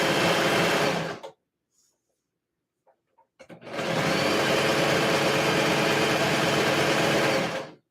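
A serger overlocking the seams of a skort runs in a loud, steady burst, pauses briefly, then runs again for several seconds in a continuous mechanical buzz.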